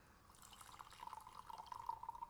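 Water is poured for a second steep of tea, a soft, close, trickling pour with a rising liquid gurgle as the vessel fills.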